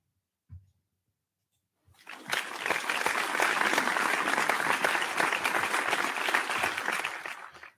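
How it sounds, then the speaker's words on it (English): A studio audience breaks into steady, dense applause honoring a veteran football coach on a sports radio show, after a single soft thump and a brief silence. The clapping stays loud and even, with no voices over it. "Let's give him a clap one more time, man"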